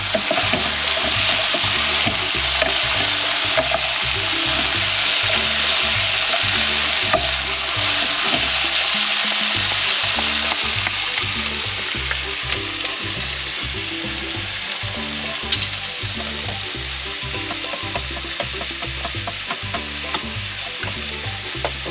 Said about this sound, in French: on va faire cuire un petit peu le ananas quand même